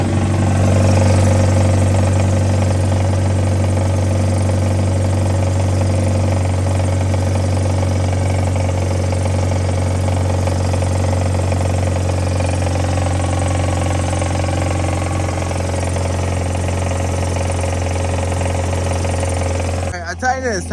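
A Mazda Miata engine idles steadily at close range, a constant low rumble and hum holding for about twenty seconds before cutting off abruptly at the end.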